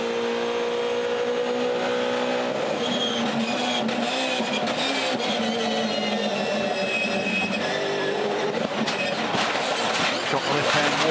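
Onboard an IndyCar race car as it crashes into the left-hand wall and ricochets: loud continuous engine and wind roar, with sharp jolts and shifting noise, a commentator's voice running over it.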